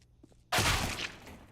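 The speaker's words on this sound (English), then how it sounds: "that's a big headshot from Nico." A single loud sniper-style gunshot in Counter-Strike during a professional ESL Pro League match lands a headshot, a sharp broadband crack at about half a second that rings out and decays over the next second, heard alone.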